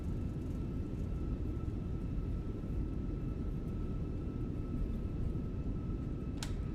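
A simulated airliner rolling out on the runway after touchdown in a flight simulator game. Its broad engine roar stays loud and steady, with a faint high tone running underneath and a brief sharp click near the end.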